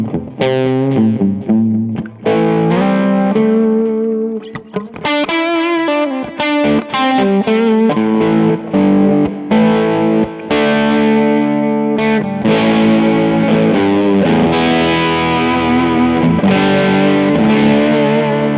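A heavily distorted electric guitar plays through a cabinet miked with a Shure microphone, loud and continuous with dense chords and riffs that have a chorus-like sheen, played alone for the whole stretch.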